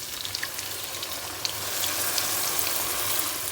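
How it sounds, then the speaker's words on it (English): Boiling water poured into a pot of mutton biryani, a steady rushing splash and hiss that grows fuller and louder midway, close by with no talk. "So now I'm just going to add about 6 cups of water."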